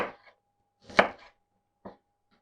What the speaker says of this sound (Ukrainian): Нарізаю кубиками.